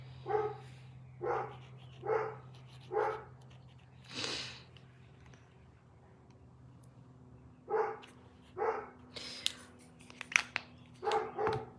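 A dog barks in a run of four evenly spaced woofs, pauses, then barks again several times amid light clattering, fairly close.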